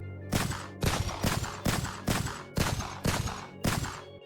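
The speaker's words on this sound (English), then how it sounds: "Yeah, it's the Poppy Playtime hand, with a gunshot sound effect." Gunshot sound effect fired from a hook weapon in a mascot horror video game, eight sharp loud blasts in a steady rapid rhythm, each with a short decaying tail, no talking.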